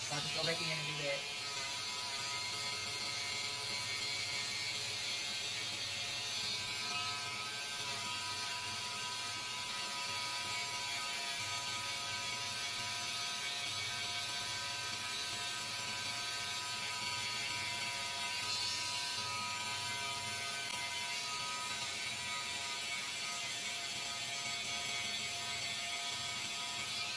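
Electric clippers buzz in a steady, close whir while shaving the side of a wig, running continuously as a person talks over them.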